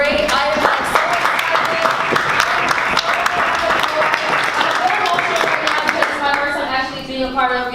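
A student senate meeting audience claps in steady, dense applause from nearby, with voices talking and calling out over it throughout.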